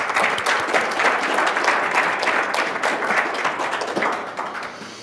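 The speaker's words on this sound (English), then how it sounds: "another round of applause for Connie Hargrave, folks." Steady applause from an awards ceremony audience honoring women of achievement, dense clapping sustained throughout and easing slightly at the end.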